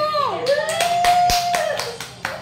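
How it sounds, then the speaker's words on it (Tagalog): Several sharp hand claps ring out near and loud in an irregular rhythm at home, with a child's and adults' voices chattering alongside. "Palakpak mo, Daddy! Daddy! Palakpakan mo!"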